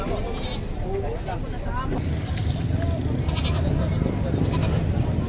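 Goats bleat at a busy livestock market where buyers haggle, several wavering cries rising over a constant crowd murmur and nearby talking.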